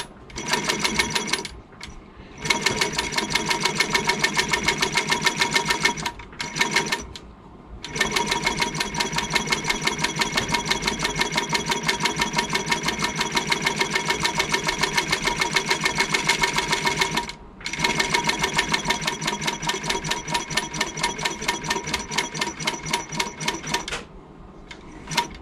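A walking-foot sewing machine stitches leather in a fast, steady mechanical rattle, running in long bursts separated by a few brief pauses.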